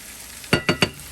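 Spoon tapped three times in quick succession against a cooking pot to knock fresh ginger off it, sharp close knocks with a short sizzle beneath, nothing else heard.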